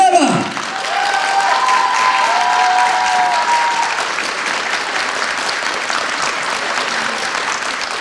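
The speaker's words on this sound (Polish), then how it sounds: "kochani, wielkie brawa!" A concert audience claps in a dense, sustained wave of applause with some cheering, loud and filling the hall, while a voice briefly rises over the start before the clapping settles into a steady roar.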